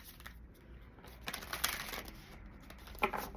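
Oracle cards being shuffled during a pick-a-pile reading, a soft papery riffling with scattered light taps and slaps that swell briefly, close and quiet, with no talking.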